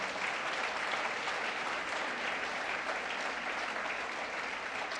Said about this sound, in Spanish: Dele un aplauso a nuestro Señor.